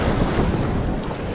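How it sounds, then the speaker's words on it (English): Rough ocean surf churned up after a typhoon, a steady loud wash of breaking waves with heavy wind buffeting the microphone throughout, no voices. "water's very angry still from the typhoon."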